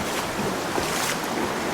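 A creek flows nearby as a steady, broadband rushing wash with slight surges, constant and fairly close, with no voices over it.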